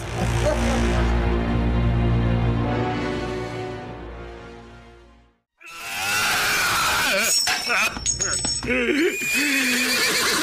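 A horse whinnies loudly and repeatedly, its cries rising and falling over a sustained tonal bed, breaking briefly into silence before another burst of neighing mixed with people speaking.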